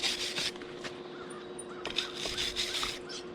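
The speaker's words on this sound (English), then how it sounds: "Oh, I hear the crows coming." Several crows caw in scattered calls over a quiet outdoor background, somewhat distant, with no voices.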